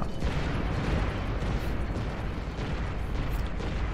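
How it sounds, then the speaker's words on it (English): A rocket explodes in the first-person shooter Serious Sam 4, a dense, sustained roar of rumbling blast noise that stays loud and even for the whole stretch, with no talking. "As soon as I saw that rocket in my field of vision, I knew I was dead."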